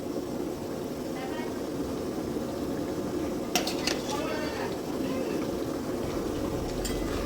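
Potatoes tipped into a pot of spiced vegetables for a Bengali vegetarian chhakka, giving a steady simmering sizzle with a couple of clattering knocks midway. A voice talks throughout.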